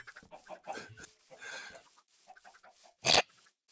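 Chickens cluck in the Minecraft Bedrock video game, a series of close, irregular clucks and squawks ending in one louder squawk, with no talking.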